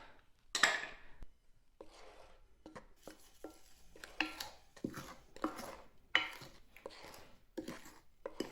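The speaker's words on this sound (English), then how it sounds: "Let's blend these dry ingredients really well." Flour, baking soda and salt whisked together in a bowl for Irish soda bread, a series of soft scraping, tapping and clinking strokes of utensil against bowl, quiet and close, with irregular rhythm and no talk.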